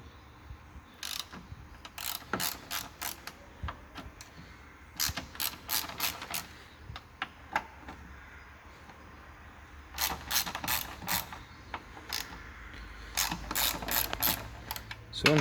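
Car jack ratcheting under a Toyota Corolla AE92, a run of sharp, close clicks in irregular bursts separated by short pauses, with no talking.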